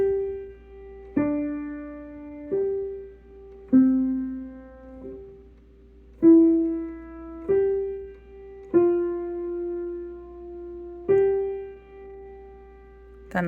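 Slow piano left-hand part of a song: single sustained notes and low intervals struck one at a time at an unhurried pace, each ringing and fading before the next, alone with no talking.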